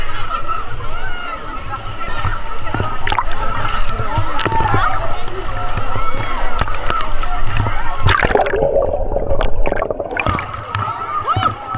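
Water splashing and sloshing as people swim at a crowded water park, a continuous close wash of splashes with frequent bursts, under loud talking and a background babble of voices.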